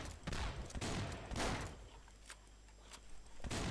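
Rapid gunfire bursts from the Swamp Attack video game as an enemy is shot again and again, loud and dense at first, then thinning to scattered shots over a low background hum.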